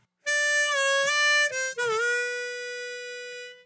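Blues riff on a harmonica running draw 4, a bent draw 4, blow 4, then draw 3, with short articulated notes, a wavering pitch bend, and a held final note that slowly fades.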